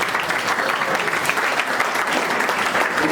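Students in a coaching-academy classroom break into loud, dense applause for a few seconds, many hands clapping together in a continuous, close burst.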